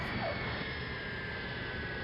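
A space shuttle orbiter touches down on a runway, heard as a steady, broad rushing roar of air and rolling noise with a faint high whine, continuous and fairly distant.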